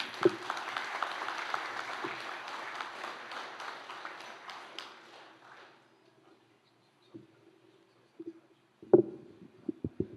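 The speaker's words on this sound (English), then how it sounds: "Give another round of applause." An assembly audience gives a speaker a round of applause, dense clapping for about five seconds that fades into near silence, followed by a few scattered bumps and handling noises.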